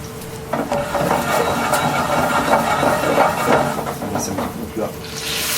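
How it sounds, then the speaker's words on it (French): A pan of boudin blanc deglazed with a cider-based spirit, a sudden loud sizzling hiss that rises and holds with light clatter while someone talks. "Une fois que ça va commencer à caraméliser, on va déglacer avec le spiritueux à base de cidre."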